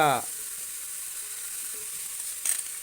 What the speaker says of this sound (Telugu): ఇవన్నీ ఫస్ట్ వేగడానికి కాస్త టైం పడుతుంది.